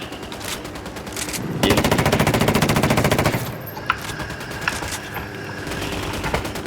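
Sustained automatic gunfire rattles in fast bursts at a helicopter in the game Ghost Recon Wildlands, loud and close, then trails off into scattered single shots.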